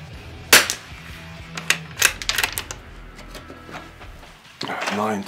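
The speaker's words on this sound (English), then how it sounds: "Let's see how these shoot now." A single sharp report from a Christensen Arms Ranger carbon fibre rifle firing a 45 grain hollow point round outdoors, followed by a scatter of quick mechanical clicks and knocks.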